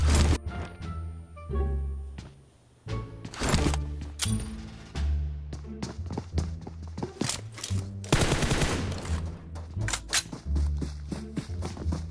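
Rapid bursts of automatic gunfire crackle through a PUBG game soundscape, repeated volleys and single shots spread across the clip, loud and close.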